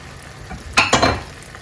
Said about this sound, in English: I'll go ahead and add my meat. Then we'll add our green beans together with the meat